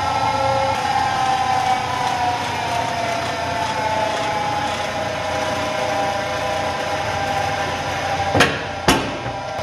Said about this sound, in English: I'm going to slow the cutter down again because we seem to get a better finish running at a lower RPM.